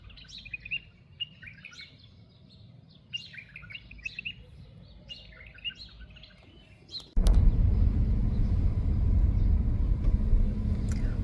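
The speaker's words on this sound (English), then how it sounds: "Listen to the beautiful bird life in this area." Birds chirp in short, repeated bursts over a quiet background in Diriyah, Saudi Arabia, then a loud, steady rumble of traffic abruptly takes over and masks them.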